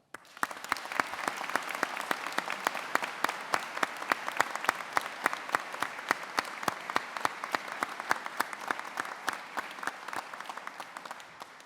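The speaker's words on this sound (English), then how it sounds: "can I ask you all now to join me in applauding those who are unable to be at our ceremony today" Sustained, steady applause from a large graduation ceremony audience in Chelmsford fills the whole stretch, dense even clapping at a constant loud level without pause.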